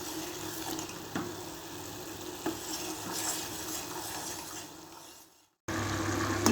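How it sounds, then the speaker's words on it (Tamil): Sugar syrup bubbles and sizzles in a pan with a steady, soft frothy hiss, briefly cutting out before resuming. "இது நல்லா மெல்ட் ஆகட்டும். நல்லா கொதிச்சிட்ருக்கு."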